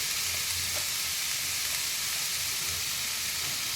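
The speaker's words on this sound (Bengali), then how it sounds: "আর বেশি ভাজা করব না, একটু সতে করার মতো করে নেব" Red capsicum sautéing in a pan for a veg momo filling gives a steady, soft, even sizzle with faint crackles throughout, with no voices.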